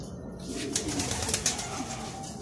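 Racing pigeons back from a training flight out of Gumaca, Quezon coo softly and steadily as a group at close range, their murmuring overlapping with brief rustles throughout.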